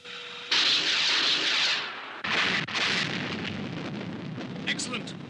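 Missile launch sound effect from the Stingray puppet TV series, a loud roaring blast of rushing noise that cuts out and resumes, with a second rumbling surge trailing off into crackling.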